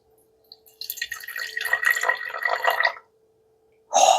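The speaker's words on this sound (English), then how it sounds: "So we're going to add 50 grams of water." Water poured into a sourdough starter, a trickling, splashing pour lasting a couple of seconds with a steady faint hum beneath, then a short sharper burst after a pause.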